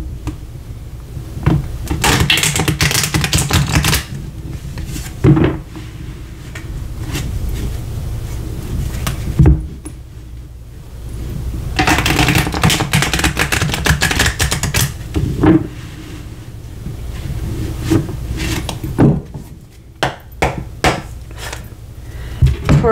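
Tarot cards riffle and rustle in repeated bursts of shuffling, with soft taps and clacks between passes, close and fairly loud, no voices.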